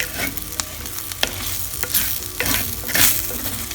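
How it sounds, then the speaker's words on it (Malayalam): Clams roasting in a pan with small onions and garlic are stirred continuously, a close, loud sizzle with repeated scraping strokes of the spoon, no talking. "അങ്ങനത് ഇളക്കി ഇളക്കി യോജിപ്പിക്കും"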